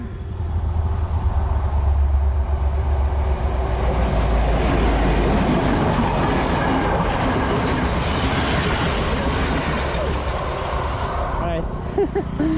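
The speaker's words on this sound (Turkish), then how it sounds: "There's a train coming." A train rolls past at a rail crossing, a loud continuous rumble with low rail clatter throughout, close by and steady, while a person talks briefly over it.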